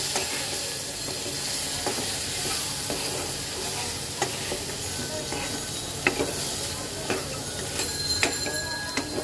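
Turmeric and ground coriander being stirred into food in a frying pan, with steady sizzling and frying hiss, scraping strokes and occasional sharp clicks of the spoon against the pan, close and continuous.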